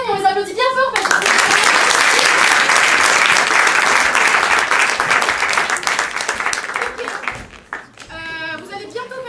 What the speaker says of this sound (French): on les raccompagne, on les applaudit bien fort